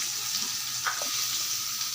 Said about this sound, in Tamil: இப்போ இதை நல்லா வதக்கி விட்டுடலாம்